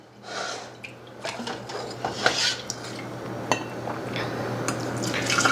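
Pork stock being strained before canning: liquid pours and drips while metal utensils clink against pots and a strainer, close up, with steady splashing beneath intermittent clatter.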